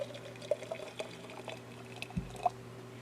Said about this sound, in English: I'm just going to get some hot water just off the boil here.